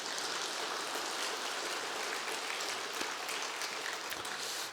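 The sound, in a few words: congregation applauding in church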